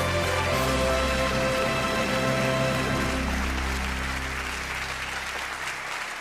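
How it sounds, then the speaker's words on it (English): Steady applause from an audience at the European Inventor Award ceremony, a dense patter of many hands clapping that fades slightly toward the end, with music droning underneath. "This is your applause."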